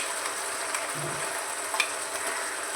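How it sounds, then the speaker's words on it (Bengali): Mustard, poppy seed, green chilli and ginger masala frying with tomato in a pan, a steady close sizzle running throughout with a few faint stirring scrapes. "দিয়ে ভালো করে মশলাটা কষিয়ে নেব"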